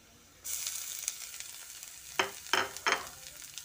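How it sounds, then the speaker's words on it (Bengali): Grated bitter gourd hits hot oil with onion in a pan, bursting into a sudden sizzle, followed by three quick, louder scraping stirs near the end, close and without speech. "করলাটা দিয়ে পেঁয়াজের সঙ্গে ভালো করে ভেজে নিচ্ছি"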